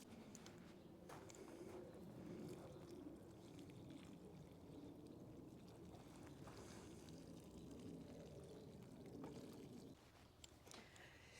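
Water poured from a watering can onto leeks planted six inches deep in a garden raised bed, a steady faint splashing stream lasting most of the stretch, with birds cooing and chirping in the background before the flow stops.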